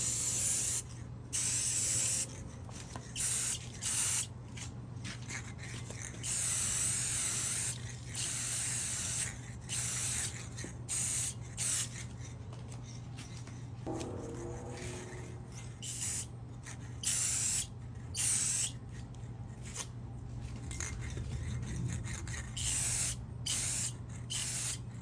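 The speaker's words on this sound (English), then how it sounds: "I'm gonna hold the spray paint just like this, about 8 to 12 inches away" A spray paint can sprays furniture handles in repeated short bursts of hissing close by, separated by brief pauses, with quiet shuffling and rustling between them.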